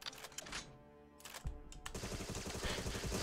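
Rapid automatic gunfire in Agent 64: Spies Never Die, a Goldeneye-inspired shooter, with sustained rattling bursts building in density toward the end after a brief shot sequence at the start.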